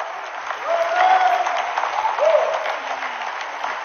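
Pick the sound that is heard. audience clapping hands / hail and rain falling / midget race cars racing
audience clapping hands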